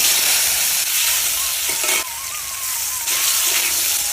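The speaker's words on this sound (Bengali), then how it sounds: "এখন এই আলুগুলো ভাজে নেবো।" Potatoes frying in a wok, a continuous close hissing sizzle with brief shifts in intensity as they are stirred, no talking.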